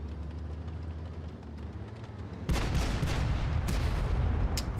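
Tank cannon fire in World of Tanks Blitz during a one-on-one duel, a standard armor-piercing round hitting an Atlas: a sudden loud broadband blast at mid-clip, followed by sustained rumbling battle noise.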